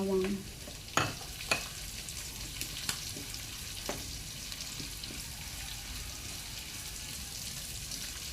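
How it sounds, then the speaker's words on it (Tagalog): Onion and garlic sautéing in a pan, a soft, even sizzle with a few sharp spatula knocks early on, then steady frying noise, near and fairly quiet with no speech. "Igisa na rin natin yung sibuyas."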